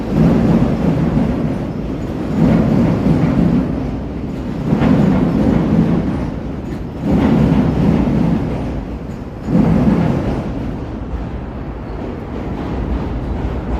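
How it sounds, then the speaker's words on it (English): A CTA Green Line elevated train crosses a bridge over the South Branch of the Chicago River in Chicago, its loud rumbling and clattering rising and falling in steady surges with no talk. "There's the green line heading across the South Branch Chicago River."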